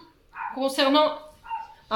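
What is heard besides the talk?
dog barking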